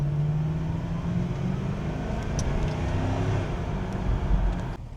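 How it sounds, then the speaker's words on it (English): The V8 engine of a Ford Crown Victoria police car, bought at a public auction, accelerates with a low, steady roar heard from inside the car. "Let's check some of that police V8 power."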